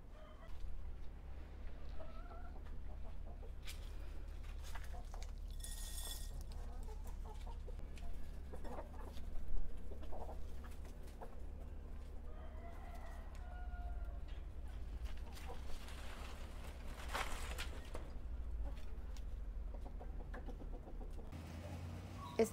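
Hens that have slipped out of the coop cluck softly and intermittently while roaming a vegetable garden, faint and fairly distant over a steady low outdoor hum.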